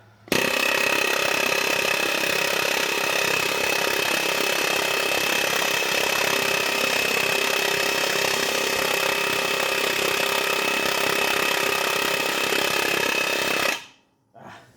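A pneumatic air hammer, a Matco or Snap-on tool, pounds out a stuck part in a loud, relentless rapid hammering that holds steady for about thirteen seconds before cutting off abruptly.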